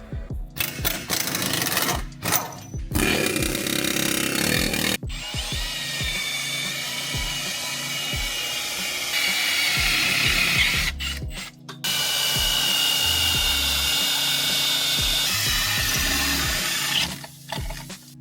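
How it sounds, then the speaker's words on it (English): A power drill whines continuously while boring three new holes in a differential housing for an ARB air locker. The loud motor drone holds steady, with brief stops and restarts and some clattering handling noise, and no talking. "Just drilled 3 new holes"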